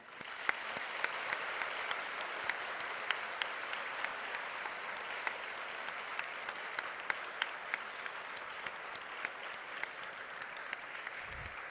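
A large graduation audience gives sustained applause, dense even clapping with sharp individual claps standing out, holding steady throughout with no talk over it.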